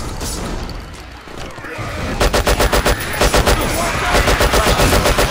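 Automatic gunfire in Left 4 Dead 2, rumbly game noise giving way to a steady rhythmic string of loud, evenly spaced shots in the second half.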